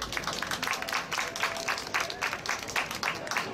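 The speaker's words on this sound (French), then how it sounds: "on peut applaudir, s'il vous plaît" A studio audience at a television fiction festival broadcast applauds steadily, a dense wash of many hands clapping at moderate distance for several seconds without talk.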